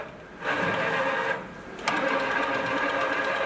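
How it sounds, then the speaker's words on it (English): An Armpro CNC bench tapping machine in automatic mode runs a tapping operation, giving a steady mechanical whir that starts after a quiet moment, dips briefly, then resumes with a sharp click and keeps running. "Paddle switch or hand switch to start tapping operation"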